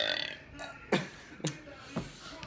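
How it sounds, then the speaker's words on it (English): Three short, loud belches ring out one after another in a father-and-son burping contest, each a sharp throaty burst with gaps between them, close to the listener. "That's like barf burp."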